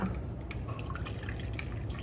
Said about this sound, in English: She's just pouring water in her.